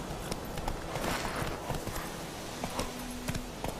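Hooves of the horse Roach clip-clop at a walk in The Witcher 3: Wild Hunt, a steady moderate stride over faint ambient game sound, with no talk.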